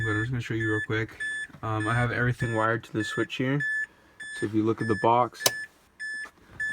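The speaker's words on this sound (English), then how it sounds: "sorry about the annoying beeping" Repeated electronic beeping inside a car being fitted with halo and demon eye headlights and footwell lights, a steady high tone recurring throughout while someone talks over it.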